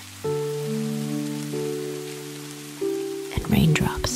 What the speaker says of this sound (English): raindrops tap on the leaves as Joey leaps through the treetops